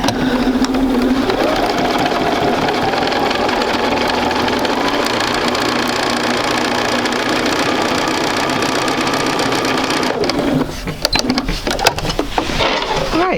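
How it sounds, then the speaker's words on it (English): A sewing machine runs steadily, stitching two fabric rectangles together for a quilt block, loud and close for about ten seconds before it stops and a few handling clicks and rustles follow. "I'll sew my 2 perfect rectangles together to make a triangle in a square"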